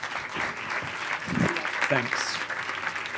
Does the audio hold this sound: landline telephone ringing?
no